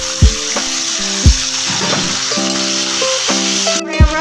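A spice paste of ginger, cumin, coriander, chili and garlic sizzles in a hot pan for a prawn lau dish, a steady frying hiss running throughout under background music with periodic soft thumps.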